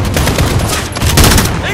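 Dense, loud gunfire from a Call of Duty: Modern Warfare firefight, rapid overlapping automatic bursts close by filling the whole moment without a break.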